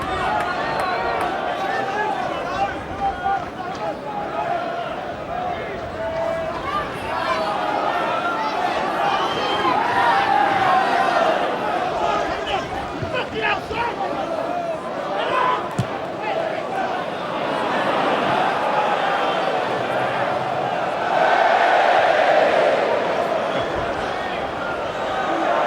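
Football crowd at a Southend United v QPR Championship match rumbles and swells in the background beneath steady commentary, with occasional louder surges of noise from the stands.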